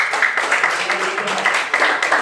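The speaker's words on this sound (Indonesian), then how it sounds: "tepuk tangan untuk kelompok ini dan juga Mas Ridho" A classroom audience claps for a student group after a presentation, a short burst of dense, steady handclapping close by.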